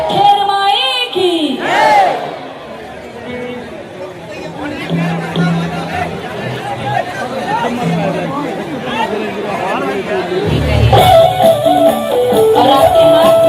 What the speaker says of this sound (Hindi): एक बार जोरदार माँ जगदम्बा का जयकारा लगाएंगे